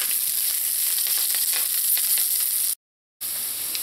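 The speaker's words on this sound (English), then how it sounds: "Now you're going to let these saute in here until that onion turns a golden brown color" Onion and curry leaves sauté in a pan with a constant bright sizzle and crackle, interrupted by a brief moment of total silence before the frying resumes; no one speaks.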